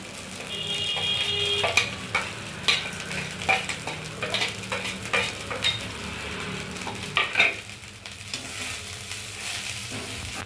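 Cooked rice being tossed in a pan with dark soy sauce and fried garlic for butter garlic rice, making a soft, steady sizzle beneath irregular scraping and clattering stirs, with a brief clink of utensils, near and moderately quiet.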